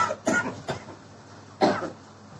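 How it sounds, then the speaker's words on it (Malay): Coughs from an audience member during a religious lecture: two or three short, sharp bursts in a quiet room, with a final louder cough near the end. "jemaah batuk sikit"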